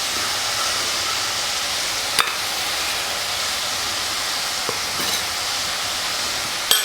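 Ginger garlic paste sizzles and fries steadily in a pan for a coconut fish curry, a continuous close hiss broken by a few brief clinks of stirring, with no talking.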